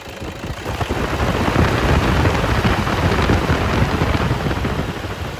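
A 2013 Toyota Innova V diesel engine revs under the accelerator, a loud, steady broadband roar that swells early and holds without a break for several seconds, no voices over it.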